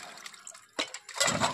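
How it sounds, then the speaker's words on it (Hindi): Cut potato slices being rinsed in a bowl of water for homemade chips, giving brief sloshing and splashing, with a louder wash of water toward the end; no talking. "तो बढ़िया से पानी में हमको इसको धो लेना है"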